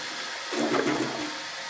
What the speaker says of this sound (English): Go and watch it flush.